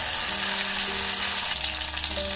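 Tomato and grated ginger fry in mustard oil with whole cumin, a loud close continuous sizzle with crackling spatter that fills the whole moment without pause.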